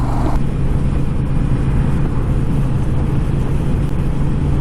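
A 2021 Honda Rebel 1100 motorcycle, DCT or manual, accelerates on the road. Its engine drones loud and steady beneath heavy wind rush, with no talking heard.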